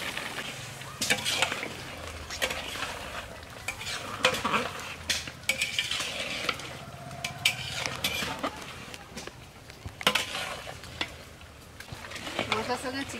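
Fried potatoes stirred into chicken in a cooking pot: steady sizzling with repeated scraping and clinking of a metal spoon against the pot, close and busy throughout.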